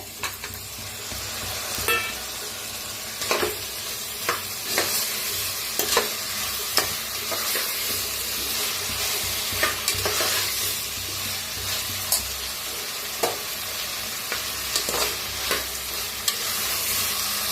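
Tomatoes sizzle loudly in a hot frying pan of masale bhat base, with a continuous frying hiss broken by repeated sharp scrapes and clatters of a stirring spoon.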